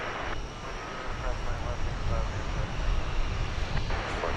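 An airplane taxiing on the runway at DFW Airport: a steady, broad engine roar held at moderate distance throughout, with faint background voices.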